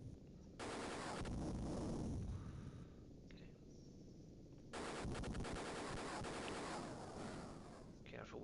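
Helicopter gunfire in the Sega Genesis game Jungle Strike, shooting tanks beside a river: two long bursts of dense, rapid rattling shots with a noisy, roaring backdrop between them, loud and continuous.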